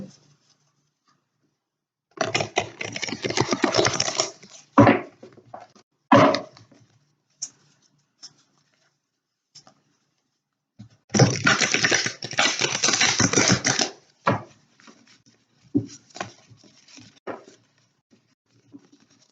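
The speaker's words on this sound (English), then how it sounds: "Just give the cards a shuffle." A deck of tarot cards is shuffled in a quiet room, giving two separate bursts of rapid, crisp riffling, each lasting a few seconds. Scattered soft taps and card slaps fall between them, and no one speaks.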